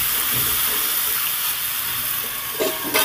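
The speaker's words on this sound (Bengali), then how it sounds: "এই হলুদ লবণ দিয়ে আলুটাকে খুব সুন্দর করে ভাজতে হবে।" Potato cubes sizzle in a hot pan with salt and turmeric, a steady close hiss of frying that runs throughout, with a couple of brief clatters near the end.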